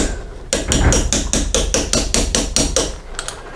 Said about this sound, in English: I'm going to use my Allen socket as a extension and just keep tapping